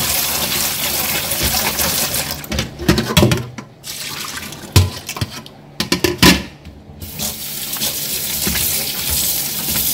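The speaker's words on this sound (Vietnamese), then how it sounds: "bây giờ các bạn sẽ xả nước và rửa sạch" Water runs from a tap while pig intestines are rinsed in a sink, a steady gushing stream broken by louder splashing and handling bursts in the middle.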